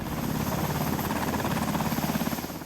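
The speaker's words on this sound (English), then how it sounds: "we board a Coast Guard H-60 helicopter and head out to see a patch of ocean" Coast Guard H-60 helicopter heard from inside the cabin while heading out over the Alaskan ocean: a loud, steady low drone with rhythmic rotor throb, continuous and without talk.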